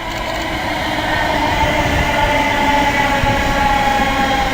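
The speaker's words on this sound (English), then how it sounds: "Here goes the 1329 service from Euston to Birmingham New Street" London Midland class 350 electric train departing Birmingham International on the Euston–Birmingham New Street service, a loud, steady rumble of wheels and traction motors building slightly as it pulls away close by.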